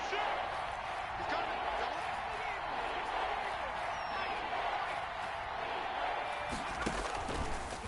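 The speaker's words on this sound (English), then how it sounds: "the crowd getting into it as we come up on a big third down" Crowd noise in an American football video game on PS4 swells during a big third down, a steady roar of cheering held across the whole stretch alongside game commentary.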